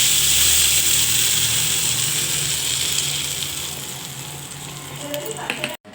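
Curry leaves spluttering in hot oil while tempering for a chutney, a steady dense sizzle and crackle that slowly fades, with small clicks near the end and no talk.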